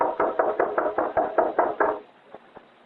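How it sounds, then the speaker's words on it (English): Loud knocking on a door in a radio drama, about nine heavy raps in a steady rhythm, then two softer knocks after a short pause, with no voices. "Knock loudly. Wake the gentleman up."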